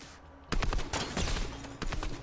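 Gunshots in a tactical first-person shooter match, two or three sharp reports spread across a couple of seconds, loud and close, with a brief burst near the end and no talk over them.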